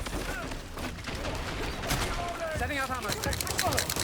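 Rapid gunfire bursts and weapon mechanics in the shooter game Dirty Bomb, mixed with impacts and game effects, close and loud under excited talking.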